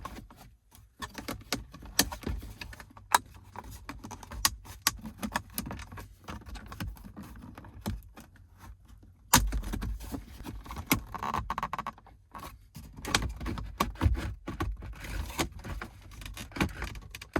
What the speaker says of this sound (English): next we're gonna pry up in this corner and start getting the clips kind of loose all the way around